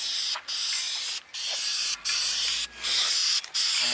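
Five bursts of spray paint hiss loud and close, laid on as a light dusty coat over 350Z headlight parts, each burst lasting about half a second to a second with short pauses between.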